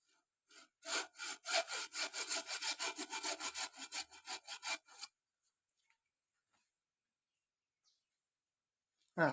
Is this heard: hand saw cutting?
yes